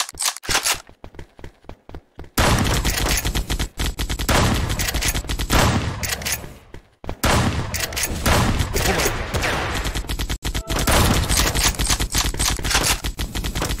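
Rapid automatic gunfire in the browser shooter ev.io, loud dense bursts of shots rattling almost continuously with brief pauses between volleys, no talking.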